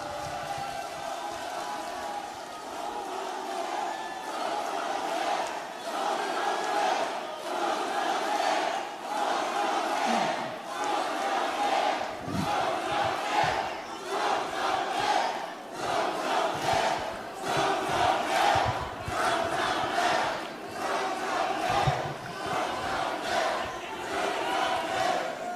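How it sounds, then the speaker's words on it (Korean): Large crowd at a Korean Democratic Party leadership convention cheering and shouting steadily as a party-leader candidate is introduced, a dense continuous roar of voices with chanting bursts throughout. "뜨거운 박수로 맞아주시길 바랍니다"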